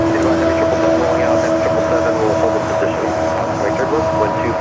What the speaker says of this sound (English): We got that Korean Air cargo 777 freighter going to be taking off 25 left.